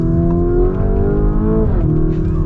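The engine of a 2022 Lamborghini Urus revs loud and close, holding a strong harmonic drone that dips in pitch briefly before settling again, with no talking.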